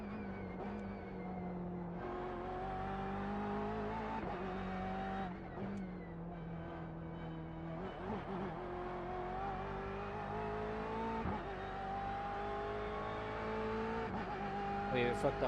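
A GTE race car screams around the Nürburgring Nordschleife in a racing video game, its engine continuously revving up and down through gear changes with occasional tire squeal, loud and close throughout.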